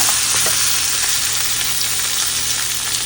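Pork ribs sizzle and crackle in a hot pan, a close, steady frying hiss with small pops and no talking.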